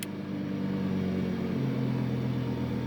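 A car engine idles steadily with a low continuous hum, the revs easing down slightly partway through as the drive mode is changed, heard alone and fairly close.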